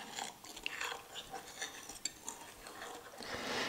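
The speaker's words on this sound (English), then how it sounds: "we're just going to stir this until the Jell-O dissolves" A utensil stirs and scrapes against a bowl of dissolving Jell-O in hot water, with light irregular clinks and swishing liquid, quiet and close.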